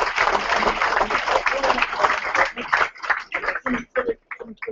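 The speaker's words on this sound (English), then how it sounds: "Can we give him a nice big round of applause?" A room audience applauds at a football club's squad number announcement, dense clapping that thins into scattered individual claps and fades out over a few seconds.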